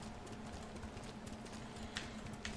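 Horse hooves clip-clopping at a gallop in the PS4 Pro video game Ghost of Tsushima, a faint steady rhythm under a low constant hum, with no voices.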